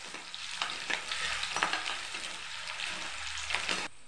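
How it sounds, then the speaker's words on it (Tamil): Shallots frying in oil in a pan as the base for a baby jackfruit gravy, a dense crackling sizzle with repeated spatula stirs and scrapes, cutting off abruptly at the end. "வெங்காயம் நல்லா வதங்கட்டும்."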